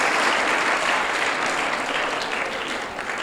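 Children at a kids' workshop in an Arya Samaj hall in Patel Nagar, Delhi, clap their hands together in a steady, dense burst that holds at an even level for a few seconds without a break.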